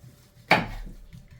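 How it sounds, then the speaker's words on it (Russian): A single sharp knife chop through pumpkin on a cutting board, one clean hit with a short ringing tail, close and otherwise quiet. "нарезаем тыкву кубиками"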